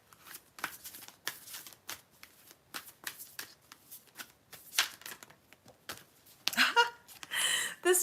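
Tarot cards are shuffled by hand in a string of soft, papery riffles and slides, close up, with short pauses between them and a louder, longer burst of shuffling near the end. No one speaks.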